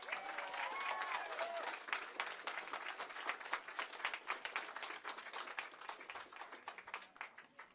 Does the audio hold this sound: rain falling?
no